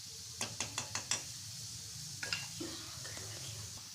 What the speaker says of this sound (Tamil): கட்டி இல்லாமல் கலரி கொடுத்துக்கிட்டே கொதிக்க விடணும்